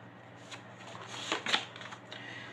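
Tarot cards shuffled during a Taurus guidance reading, a soft papery riffle with a few brighter flicks near the middle, close and fairly quiet with no one talking.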